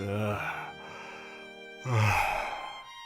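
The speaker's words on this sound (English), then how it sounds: "You're yawning again." A young man yawns twice, a long drawn-out voiced yawn trailing into a sigh, a pause, then a second louder yawn, close to the listener with no words spoken.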